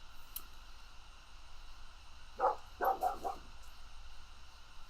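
A dog barks in a quick burst of four or five sharp yaps, moderately close, over a steady background hum with no talking.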